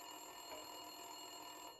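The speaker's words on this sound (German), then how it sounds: "Wintersons Telefon läutete." In Max Payne 2, a telephone rings continuously at a faint, steady level, alone and with no speech, cutting off abruptly at the end.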